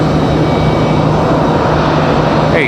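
Frontier and Delta airliners at RDU airport, a loud, steady engine drone filling the short moment with no voices.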